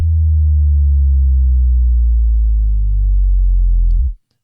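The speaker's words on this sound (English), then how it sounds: "I often use 1 octave when I do sub drops like this" A synthesized sub drop made with a smooth sine wave and a one-octave downward pitch bend, a loud deep tone sliding steadily lower for about four seconds before cutting off abruptly.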